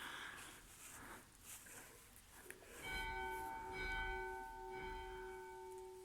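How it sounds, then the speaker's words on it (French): A small chapel bell struck by hand, with dull knocks at first and then a clear ringing strike whose tone hangs and slowly fades, repeated, close and fairly quiet. "j'ai fait sonner la cloche, j'ai fait 3 coups sur la cloche"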